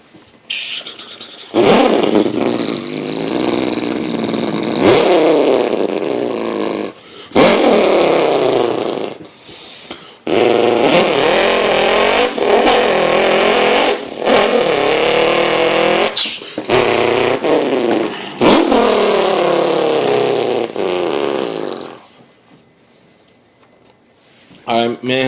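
A voice imitates a Subaru car engine revving, with several long, loud, rising and falling vocal drone passes broken by short pauses, ending in a quiet stretch.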